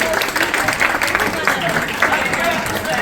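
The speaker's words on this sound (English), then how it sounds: "Everyone, give a big round of applause to Auntie" An audience at an arts gallery talk gives a round of applause for a departing guest, a continuous crowd of clapping with voices talking over it throughout.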